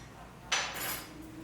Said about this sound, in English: I'm gonna grab a small little spoon